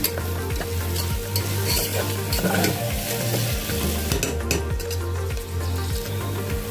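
Garam masala paste with mint and coriander sizzling in a pulao pot, a loud continuous fry punctuated by rhythmic scraping strokes of a spoon stirring against the pot.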